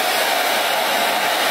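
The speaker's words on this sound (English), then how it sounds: "now, we're gonna take the blow dryer, we're just gonna blow dry it down and really focus on any damp areas" Hair being blow-dried with a handheld blow dryer, a steady, loud, continuous broadband whoosh of air that holds unchanged throughout with no talking.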